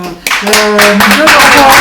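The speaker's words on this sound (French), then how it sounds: "on va peut-être applaudir quand même" An audience at a 2020 international architecture prize ceremony applauds. Loud, close clapping starts abruptly and continues while a voice talks over it.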